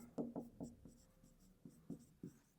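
Pen scratching on paper while working a decimals math problem: a quick series of short strokes in uneven bursts, close and fairly quiet, with no talking.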